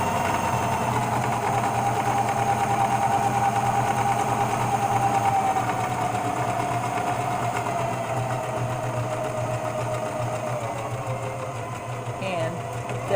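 Sewing machine stitching a seam on a stuffed toy leg, a steady continuous mechanical whir running the whole time at close range, easing slightly near the end.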